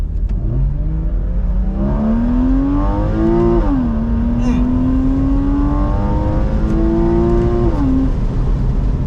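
A Porsche Boxster 981 with the top down accelerates hard through the gears, its engine note climbing sharply, dipping at a missed shift, then rising again, loud and close.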